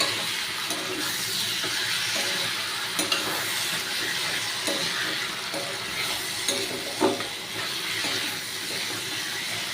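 Potatoes frying in a pan with an onion, ginger and garlic masala paste, a continuous moderate sizzle with intermittent spatula scrapes and stirring clinks.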